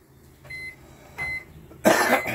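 Short electronic beeps from a microwave oven clock button in a 2022 Forest River Salem FSX 167RBKX travel trailer, two faint single beeps followed by a louder, harsher burst of sound.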